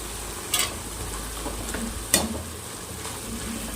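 Tamarind and chillies frying in a pan for mint chutney, a steady low sizzle with two sharp stirring scrapes standing out, close and alone with no talk.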